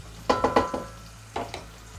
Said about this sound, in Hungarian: Jó, megpirítottunk a hagymát, fokhagymát